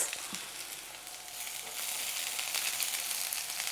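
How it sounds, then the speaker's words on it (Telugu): Onions frying in a spoonful of hot oil in a pan, a faint but steady close sizzle and hiss that swells after a moment, with a small tap of a utensil early on and no talk. "వన్ టీ స్పూన్ ఆయిలే తీసుకుంటున్నాను సో ఆయిల్ కాగింది ఆనియన్స్"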